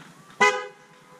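A Volvo car's horn gives a single short chirp as the car is unlocked, a sharp bright toot lasting a fraction of a second, then fading quickly into a quiet background.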